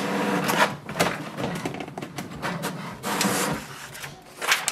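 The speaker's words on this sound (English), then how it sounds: "It will send a command for the printer to print a page." An HP Smart Tank 580 printer printing a page, a close, continuous mechanical whir with rhythmic clicks and feeding sounds throughout.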